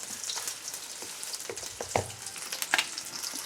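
Food sautéing in sesame oil in a pan while prawn dishes are cooked, a steady close crackling sizzle with brief stirring clatters and a few louder pops.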